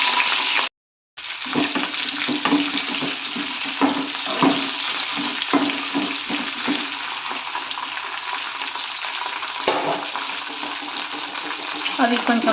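Green chillies with mustard and cumin seeds frying in two spoons of hot oil for gongura pachadi, a continuous loud sizzle and crackle right up close after a short silent gap.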